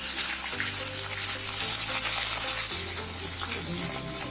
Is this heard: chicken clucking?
no